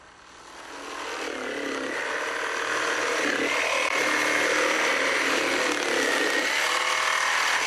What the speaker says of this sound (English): Next, I cut the layers out with my jigsaw.